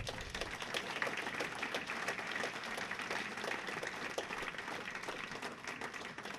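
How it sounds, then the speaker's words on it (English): A bowling hall of fame induction ceremony crowd gives a round of applause, a steady faint wash of many hands clapping for several seconds with no talk over it. "round of applause."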